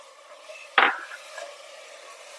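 A single stirring scrape of a spoon through thick masala in hot oil while cooking Vaniyambadi chicken biryani, a short sharp clatter against the pot over a low background hum.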